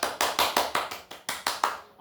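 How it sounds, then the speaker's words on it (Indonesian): Applause for a winning group in a classroom: about nine sharp, evenly spaced claps in a steady rhythm, close and fairly loud, trailing off at the end. "tepuk, beri aplaus dulu untuk kelompok 4"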